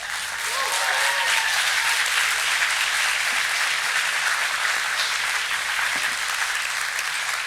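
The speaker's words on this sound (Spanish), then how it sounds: "Los aplausos son para mi santa madre." An audience at a live comedy show applauds, with dense, steady clapping throughout and no break.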